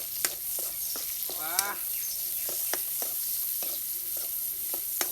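Oil sizzling in a pan on a home stove as a Bengali fish curry is cooked, soft continuous frying hiss broken by sharp scraping clicks of stirring every half second or so, faint and close, no speech.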